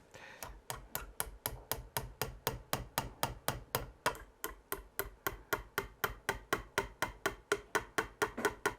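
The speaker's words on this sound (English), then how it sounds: "Obviously I'm using a hammer, so technically I am hammering." A hammer taps steadily while parts are fitted together on a handmade stone bow, producing a long even series of sharp, close metallic knocks at a regular, quick rhythm with no talking.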